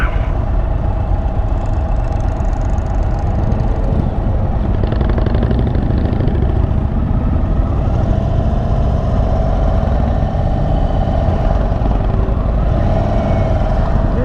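An Indian Chief motorcycle engine runs steadily and loudly while being ridden on the road, a continuous close rumble with no break.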